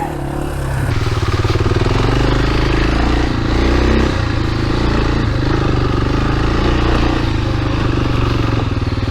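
Yamaha TW200 motorcycle riding a trail, its small single-cylinder engine droning loud and steady close by with a continuous throbbing rumble and some rattling clatter throughout.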